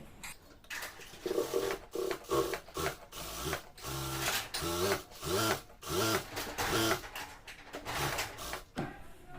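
A sewing machine stitches a bartack on a salwar seam in short, rapid whirring bursts, close and clear, separated by brief pauses, with no talking.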